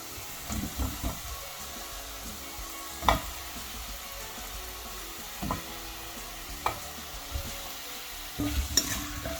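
Potatoes stirred into a pan of beef Massaman curry, soft scraping and stirring knocks over a low simmering sizzle, fairly quiet and close.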